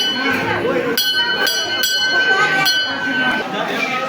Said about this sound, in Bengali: প্রণাম শেষ, আমি এখন ঘন্টাটা বাজিয়ে নেব।